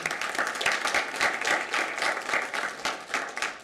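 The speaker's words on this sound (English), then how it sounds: "So that's a round of applause for them." An audience at a school board of education meeting applauds students admitted to a coding summer academy, a steady, dense wash of many hands clapping that continues without voices for the whole stretch.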